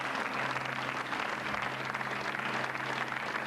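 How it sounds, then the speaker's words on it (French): A studio audience at a French television show claps steadily in a dense, even wash of applause that holds at a constant level throughout. "vous pouvez l'applaudir dans la salle"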